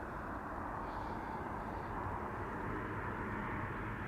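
An American Airlines plane arriving at Amsterdam Schiphol on a showery winter day, a steady low, broad roar of jet engines heard from a distance, constant in level throughout.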